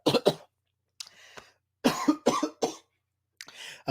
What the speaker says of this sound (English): Sorry guys, I was coughing up right now.